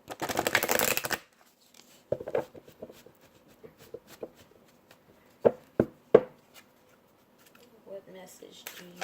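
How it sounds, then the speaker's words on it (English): Angels of Abundance oracle cards being shuffled, a brief dense riffle at the start followed by quieter scattered taps and card handling, close and soft, with some talking. "I'm going to pull an Angels of Abundance card by Dorian Virtue"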